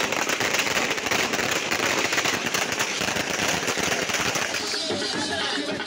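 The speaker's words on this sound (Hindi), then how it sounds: "लाहौर की सड़कों पर जश्न का समा, आतिशबाजी का मुजाहरा भी किया गया।" Dense, continuous crackling of firecrackers and fireworks fills a street celebration in Lahore. The bursts pop rapidly and loudly without a break, and faint crowd noise sits underneath.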